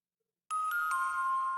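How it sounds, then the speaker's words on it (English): Ableton brush bell hits synth patch: a sudden bright bell strike rings out with a sustained metallic tone, followed by a few softer repeated hits layered over the lingering ring, clear and close with no voices. "Brush bell hits"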